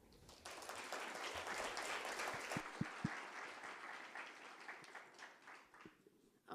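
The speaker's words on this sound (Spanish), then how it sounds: "podemos recibir con un fuerte aplauso" An audience at an evening lecture at a museum in Mexico gives a welcoming round of applause, dense clapping that swells and holds for several seconds, then thins out toward the end, heard fairly faintly.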